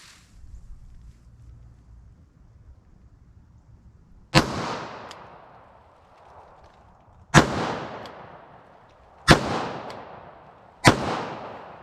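A Taurus 856 revolver fires four loud, sharp single-action shots at a range, spaced a few seconds apart, each followed by a short ringing decay after a quiet opening.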